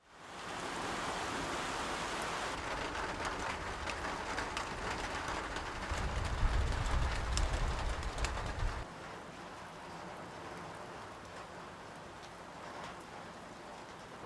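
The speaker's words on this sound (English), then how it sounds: "It just keeps coming and going, raining, windy" Steady rain falls outdoors while gusty wind rushes through, the roar swelling louder for a few seconds midway before easing back to a constant wash, with no voices.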